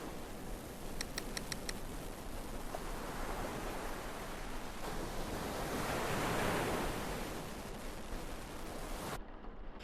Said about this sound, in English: Listen for the waves, Flathead.